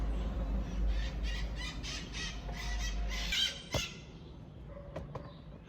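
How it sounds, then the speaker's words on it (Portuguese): Parrots in a flock squawk and squeal outdoors, with a burst of shrill calls for the first few seconds, then a couple of sharp louder cries and fainter scattered calls afterward. "decidiram fazer a tour dos papagaios aqui agora que eu vim gravar. Olha quantos."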